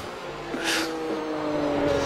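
A loud Aston Martin DBR9 GT1 race car engine in the iRacing simulator drones steadily with a rising, whining tone and a brief hissing burst, close and continuous.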